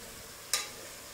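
Soaked soya chunks get stirred into vegetables frying in a pan for vegetable biryani, a single brief scraping stir over a steady soft sizzle.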